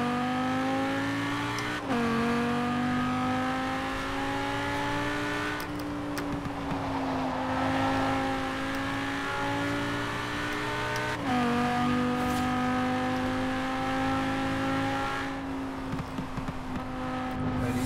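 A car engine in the racing game Forza Horizon 4 drones loudly and continuously, its pitch climbing and dropping through several sharp gear shifts, with no talking.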